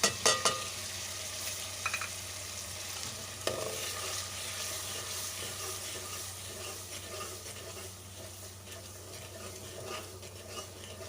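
Whole cloves, black peppercorns, a cinnamon stick and salt roast in a pan, giving a soft, continuous sizzle with a few light scrapes and taps, fairly quiet and with no one speaking.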